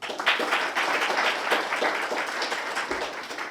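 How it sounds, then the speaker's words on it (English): Moderate audience applause at a city services lunch-and-learn event, a continuous patter of many hands that is fairly soft and distant and tapers slightly toward the end. "One more round of applause."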